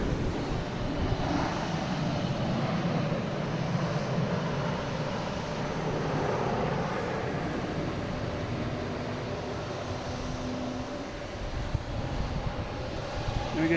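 A Delta Airbus A321 from Atlanta arrives at Boston Logan airport, its jet engines making a continuous broad roar that holds steady at moderate loudness from a distance, with no voices over it.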